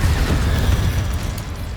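Confringo and Incendio spell blasts in Hogwarts Legacy, a heavy, rumbling explosive burst that stays loud and dense for under two seconds.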